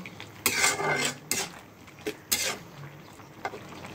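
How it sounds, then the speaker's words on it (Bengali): A pot of home-style prawn curry is stirred and then covered, giving several short metallic scrapes and clanks of utensil and lid against the pot, close by, with no talking. "আবার একটু নাড়াচাড়া করে ঢেকে দেব।"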